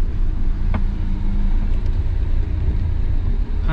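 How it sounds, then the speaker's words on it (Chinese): A line of heavy trucks on a road in Panjin, northeast China, heard as a continuous low traffic rumble with engine drone, steady and fairly close, no talking. "还好长的队啊，这个大货车。"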